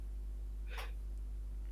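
A single quick sneeze from a podcast guest bursts out briefly over a quiet room hum, short and fairly faint with no talk around it.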